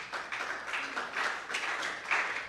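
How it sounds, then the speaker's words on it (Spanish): A church congregation claps together at a fairly faint level, a soft, even wash of applause with slight swells, and no clear talk over it. "¿Por qué no le das un aplauso al Señor?"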